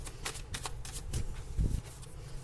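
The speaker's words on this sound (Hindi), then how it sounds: "अगेन आपके लिए कार्ड निकालूंगी" Tarot cards being shuffled and drawn, heard as quick, soft riffling flutters and slaps in a few short bursts, close and quiet, with no speech.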